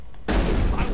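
Mounted gun opening fire in the video game Mass Effect, a sudden loud burst that turns into a dense, sustained roar of gunfire after a brief quiet lead-in.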